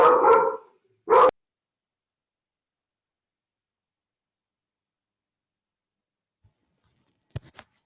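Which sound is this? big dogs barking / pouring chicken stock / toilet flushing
big dogs barking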